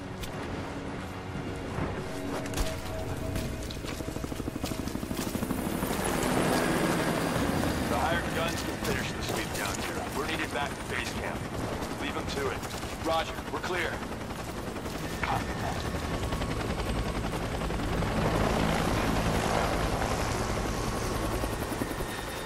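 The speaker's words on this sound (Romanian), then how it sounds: "a plecat elicopterul" A helicopter in the video game Rise of the Tomb Raider thunders loudly and continuously with a deep rotor chop, mixed with bursts of gunfire and explosions, as someone talks over it.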